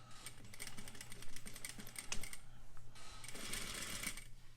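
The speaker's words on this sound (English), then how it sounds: "I'm going to put my needle down and I'm going to start with a back stitch" Close, steady rapid whirring and clatter of a sewing machine back stitching at the start of a quarter-inch curved seam, running continuously with slight shifts in pace.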